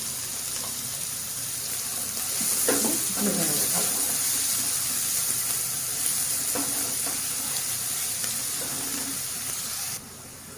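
Finely chopped onion frying in a pan for a Bengali home-cooked lunch, giving a steady, close, hissing sizzle with scattered crackles and a few louder spits partway through.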